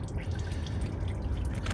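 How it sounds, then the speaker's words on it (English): Used motor oil from a 2017 Ford F150's removed oil filter pours into a drain pan, a steady close trickle and drip running throughout with no talk. "Pouring out the oil out of the filter into the pan just to get rid of that."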